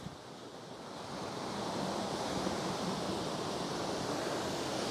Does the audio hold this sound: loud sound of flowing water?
yes